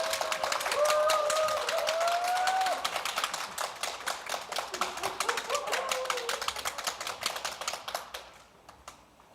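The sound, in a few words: audience applause at conference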